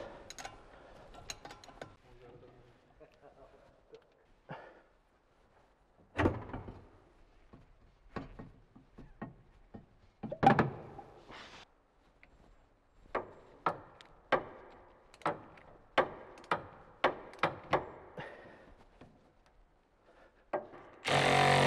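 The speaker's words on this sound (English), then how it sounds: "All right, so just then I pulled out all the axle bolts." Metallic clicks and ratcheting taps come in scattered bursts, quiet and close, as axle bolts are worked loose and pulled out of a car, with a sharper clatter toward the end.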